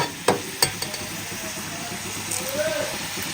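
Green chillies fry in a kadai, a soft continuous sizzle broken by a couple of sharp clinks early on and quiet stirring scrapes afterwards.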